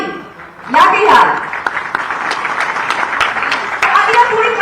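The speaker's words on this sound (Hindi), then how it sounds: "तालियां थोड़ी कमजोर लगी मुझे, जोरदार तालियां होनी चाहिए" Audience applause at a government job appointment letter ceremony in Jharkhand, a scattered burst of clapping swelling after a brief lull and continuing moderately under someone talking over a loudspeaker.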